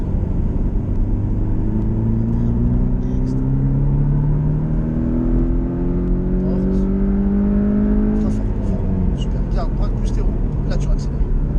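A Porsche Cayman 718T accelerates hard on a race circuit, engine pitch climbing repeatedly through the gears in loud, rising sweeps, with an instructor's voice coaching over the steady roar.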